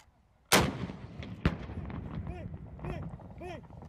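A Marine rocket launcher fires once at targets, a sharp loud blast followed by a second crack about a second later, then rumbling echo with faint shouted voices and whistling sounds behind.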